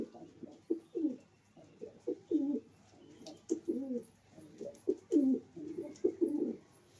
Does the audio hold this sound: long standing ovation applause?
no